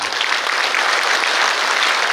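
Sustained clapping from the audience at a 79th Liberation Day commemoration ceremony, an even, dense round of applause with no pauses.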